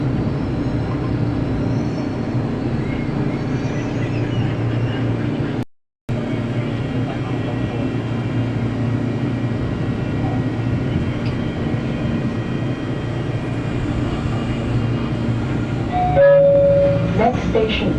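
The rumble and rattle of an LRT Line 2 light rail train arriving at a station in Manila carry through the whole stretch, with a short high electronic beep near the end.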